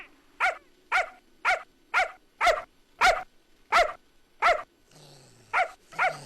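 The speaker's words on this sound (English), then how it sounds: "It's a pooch!" A dog gives a run of nine or ten evenly spaced, loud close barks with a whimpering edge, then pauses and adds two more yelps, with no talk over it.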